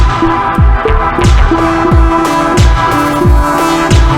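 Loud music with a steady drum beat, punchy kick hits thumping in regular rhythm under sustained synth tones.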